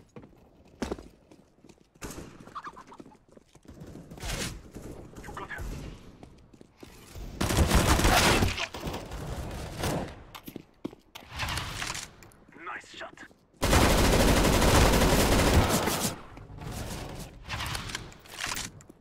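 A UMP submachine gun fires in the shooter game CS:GO, with two loud sustained bursts of rapid gunfire among footsteps, other game sounds and a voice talking.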